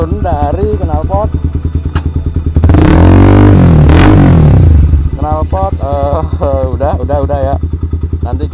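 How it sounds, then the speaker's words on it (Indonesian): Close, loud Honda CB150R fitted with a Lone Ride exhaust: a steady throbbing idle, then a strong surge of revving for about two seconds with a blip at the top, settling back into a lumpy, rhythmic idle. "Nah, itu pure sound dari knalpot"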